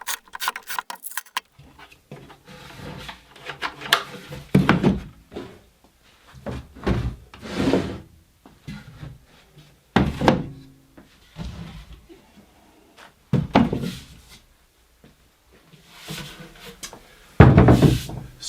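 Wooden drawer boxes get clips fitted front and rear, giving irregular knocks, clicks and light clattering bursts separated by quiet pauses. Some bursts are sharper and louder than others.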